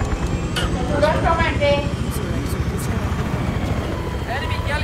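An enemy helicopter in a video game approaching with a steady, loud rotor rumble that fills the whole stretch, while players talk over it.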